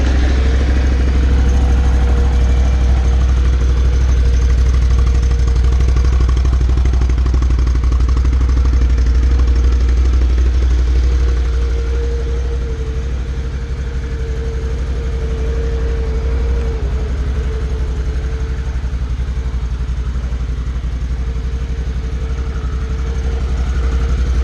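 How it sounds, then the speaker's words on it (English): A Can-Am Renegade V-twin ATV engine idles steadily and loudly up close, a deep, even rumble with a light mechanical clatter and no voices. "For anybody else that doesn't know Can-Ams, they're all V-twin, and I'll start it off for you."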